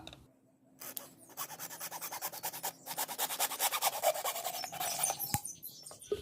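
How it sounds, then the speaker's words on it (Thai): A hacksaw cutting through the neck of a plastic bottle being turned into a high-pressure water nozzle, giving rapid rhythmic rasping strokes that speed up and grow louder, close and alone with no talking. "เราจะใช้ เลื่อยตัดเหล็กนะครับ ตัดตรงคอขวดนี้นะครับ"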